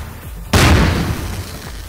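A single loud, close explosion bursts in the video game Garry's Mod during a Melon Bomber match, a sharp boom that decays into a rumbling tail after a quiet lead-in.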